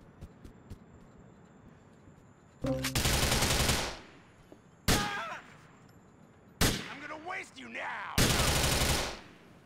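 Bursts of automatic gunfire in Grand Theft Auto IV, four loud sustained volleys of roughly one to one and a half seconds each, separated by quieter gaps with faint game ambience.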